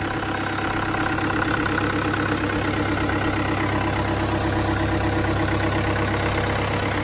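A Cummins diesel engine fitted in a 1997 Jeep Wrangler TJ idles steadily up close, a loud, even clatter with a low rumble that holds constant throughout with no talking.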